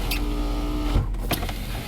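Power window motor on a 1999 GMC Yukon SLT, a close steady electric whine running for about a second before stopping with a soft thunk, followed by brief mechanical clicks.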